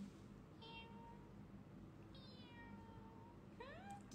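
Three separate cat meows, spaced a second or so apart, each a thin rising-and-falling cry over a steady low background rumble.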